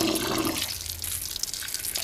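Water runs from a tap during a blocked drain job, a steady hissing flow at fairly low level with a brief lower rumble early on, heard alone.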